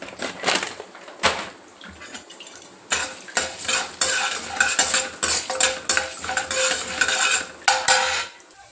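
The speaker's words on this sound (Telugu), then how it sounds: "నూనె వేడైనాక రెండు టేబుల్ స్పూన్లు మినప్పప్పు" Two tablespoons of urad dal fry in hot oil, with close, loud bursts of sizzling and crackling. A spoon clatters and scrapes against the pan in short, uneven strokes.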